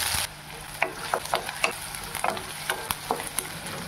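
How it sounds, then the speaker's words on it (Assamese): Chopped onion sizzles and crackles in hot oil in a kadai during a pasta breakfast, with a steady close frying hiss broken by repeated sharp scraping and stirring clicks. "তেলখিনি গৰম হৈ গ'ল মই এতিয়া পিঁয়াজ দি দিওঁ"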